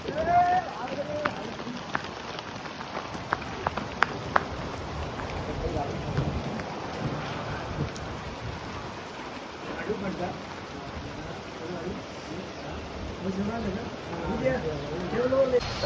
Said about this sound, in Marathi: पाऊस बघा तुम्ही एकदम जोरात येतो आहे